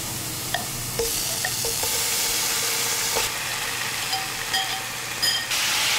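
Marinated pork stir-fried in a pan with shallots and garlic, a steady loud sizzle throughout with intermittent scraping and clinking of a utensil stirring the meat; no talking.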